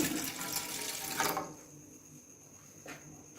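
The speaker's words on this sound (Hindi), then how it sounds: "इसके अंदर मैं 1 गिलास पानी का ऐड करती हूँ।" A glass of water pours into a cooking pot with a loud, splashy gush that tapers off quickly into quiet trickles and faint kitchen noise.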